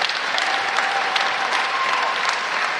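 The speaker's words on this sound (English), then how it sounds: "It's a good round of applause there for the second place teams." A basketball crowd at the boys' under-17 national grand final in New Zealand applauds the runner-up teams with loud, steady clapping filling the hall, a whistle faintly audible within it.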